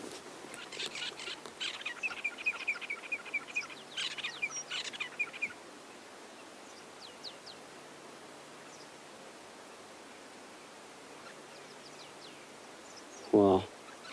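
A red-billed buffalo weaver gives a run of rapid chirping calls over steady outdoor hiss, then quiets; a brief louder sound comes near the end.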